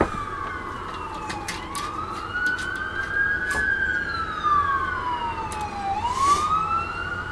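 Emergency vehicle sirens pass through a neighborhood, their wailing tones rising and falling in long sweeps, with a second siren overlapping and fading, moderately loud over steady background road rumble.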